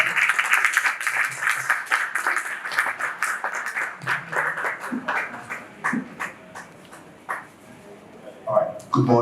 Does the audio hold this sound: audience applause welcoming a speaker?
yes